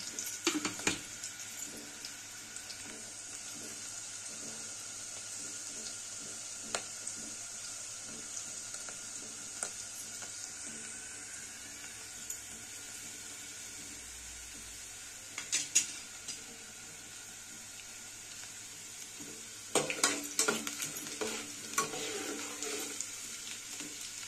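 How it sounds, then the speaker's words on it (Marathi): Onion browning in a pan for mutton curry, a quiet, steady hiss of frying with occasional soft stirring clinks and a few louder scraping bursts later on, no one talking. "कांदा आता लाल रंगावर भाजूया."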